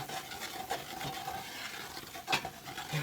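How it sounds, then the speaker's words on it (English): A roux for gumbo stirred in hot bacon grease in a pan, a soft continuous scraping and faint sizzle with rhythmic spoon strokes, quiet and close. "I am doing a roux for gumbo or smothered foods or anything, I love to stir."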